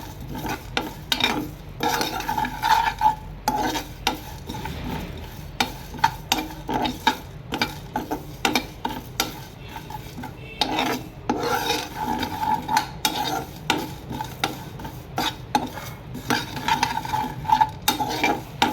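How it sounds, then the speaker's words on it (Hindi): Dry spices roasting in a pan while being stirred, giving continuous scraping, rasping strokes with a faint sizzle, close and steady with no talking. "ये देखिए हमारे मसाले जो हैं वो रोस्ट हो चुके हैं।"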